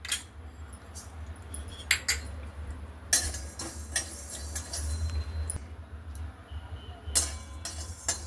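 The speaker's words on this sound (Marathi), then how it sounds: "आपण गॅसवर कढई ठेवलेली आहे मी आता याच्यामध्ये धने आणि बडीशोप भाजून घेते" Coriander and fennel seeds dry-roasting in a kadhai over a gas flame, making light, scattered ticks and clicks as the seeds shift and are stirred, over a low steady hum.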